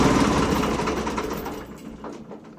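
A Ford 4110 tractor engine is shut off, its steady rumble fading and winding down over a couple of seconds until it sputters out, heard close up.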